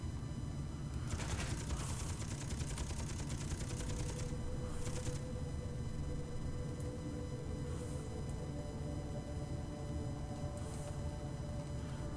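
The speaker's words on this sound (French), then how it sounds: "Mitrailleuse Gatling n'a plus de munitions" A Gatling machine gun in Space Engineers fires in a few rapid rattling bursts over a constant low mechanical hum, with quieter spells between volleys.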